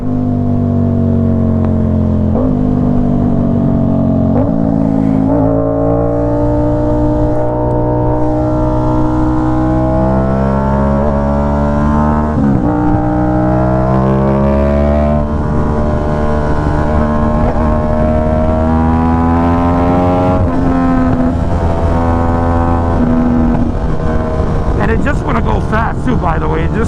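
A sportbike engine revs hard and loud, climbing through the gears in repeated rising sweeps, with brief dips between shifts as the ride continues.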